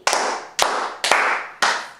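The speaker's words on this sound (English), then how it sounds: "We're gonna say 1 together and then clap." Four sharp hand claps, loud and close in a small room, spaced about half a second apart with a short echo trailing each one.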